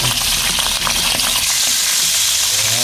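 Kabasi fish frying in a pan give off a loud, steady sizzle with bright crackling spatter and a few faint clinks, close up and with no talk over it.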